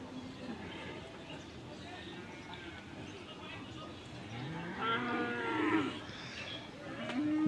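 Cattle at a cattle market after Eid moo in several drawn-out calls, loudest toward the end, over a busy crowd murmur with people talking nearby.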